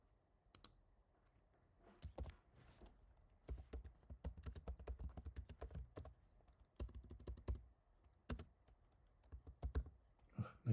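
Keys clatter on a computer keyboard while text is typed into a design program, a fairly quiet, uneven run of close clicks in bursts with short pauses, with no talking.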